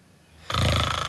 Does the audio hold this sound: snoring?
yes